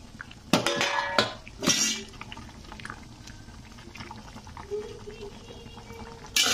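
A spoon clanks sharply against a pot a few times while eggplant and bitter gourd are stirred for shukto, then settles into a softer bubbling simmer with occasional light scrapes.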